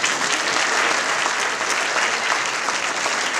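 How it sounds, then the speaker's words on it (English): A gala crowd applauds saxophone-playing twins, continuous dense clapping from many hands at a constant, fairly loud level. "We would like you to give them a round of applause"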